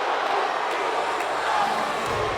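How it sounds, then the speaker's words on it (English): An arena crowd in WWE 2K20 cheers for the Usos ahead of a SmackDown tag team match, a steady, moderately loud wash of roaring fans under commentary. "Crowd already cheering on the Usos"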